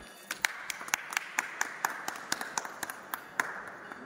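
An audience claps at an award ceremony honouring a soldier's success story: a fairly faint, rhythmic run of sharp claps, fairly evenly spaced, with a little background chatter.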